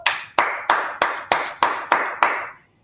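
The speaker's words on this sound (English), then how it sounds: "Let's clap it up for the Lord" Eight sharp, evenly spaced claps ring out from a group clapping for the Lord at a Wednesday Bible class, each burst loud and close with a quick decay, then silence.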